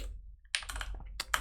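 Fast keystrokes on a computer keyboard while code is typed into a Swift file, a few quick clusters of clicks close to the mic with short pauses between them and no voices.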